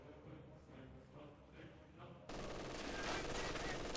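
Sustained automatic fire from an MG42 machine gun in a Company of Heroes 2 match, a dense loud burst of rapid shots that erupts midway and continues over quieter battlefield ambience.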